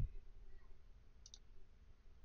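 Two quick, faint computer mouse clicks sound close together against a near-silent background while working in Matlab.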